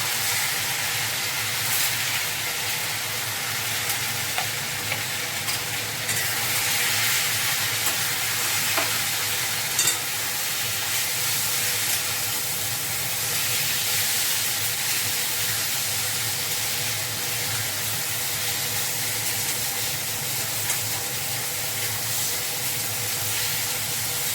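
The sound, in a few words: potato mash stirred in a hot kadai, sizzling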